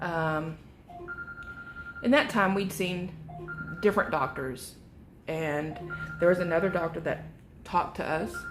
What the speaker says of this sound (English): I'm sorry for my phone ringing